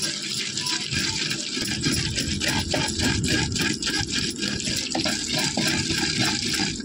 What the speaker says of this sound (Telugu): ఇలా మెత్తగా నూరినాక దాన్ని నీళ్ళు వేసి తిప్పాలి